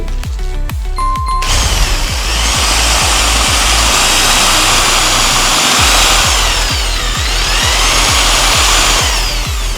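A loud power drill grinds steadily through a 100-year-old steel rivet with a harsh, high whine, a rapid rhythmic chatter running underneath, close and continuous.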